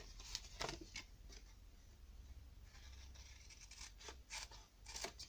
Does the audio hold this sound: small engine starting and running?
no